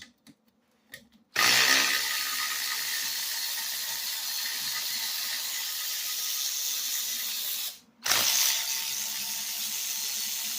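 A ratchet works bolts loose from a Briggs and Stratton vertical shaft engine being taken apart, giving a steady close clicking run for several seconds, then a brief pause and another burst of clicking.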